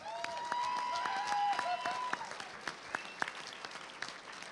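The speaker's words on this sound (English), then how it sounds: "So clap for yourselves right now" Audience applause, a sustained round of clapping from a crowd, with brief tonal sounds early on, gradually thinning out toward the end.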